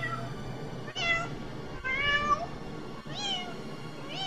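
A cat meows three or four times, each call drawn out and rising then falling in pitch, close and fairly loud, with short pauses between calls in a quiet room.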